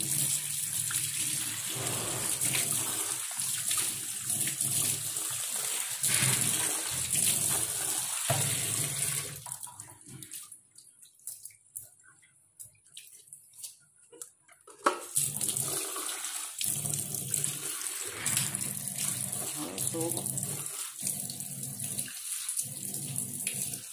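Running water rinsing a freshly cleaned steel sink, a loud steady gush and splash that drops away for a few seconds midway, then returns just as strong, no talking.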